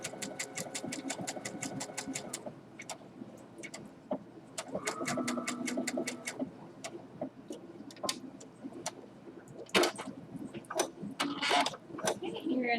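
A sewing machine runs an overcast stitch along a seam of a fabric mask, in rapid rhythmic bursts with pauses between runs, heard close and fairly quiet, while a person talks at times.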